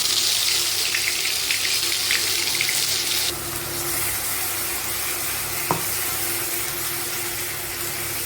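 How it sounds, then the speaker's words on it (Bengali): Ginger-garlic paste hits hot oil for a meat curry, giving a loud, bright sizzling hiss that drops to a steadier, softer fry midway, with a brief clink later and no talking. "আমি এখানে দিয়ে দিচ্ছি এই যে আদা রসুন বাটার যে পেস্টটা ছিল সেটা এর মধ্যে দিয়ে দিলাম"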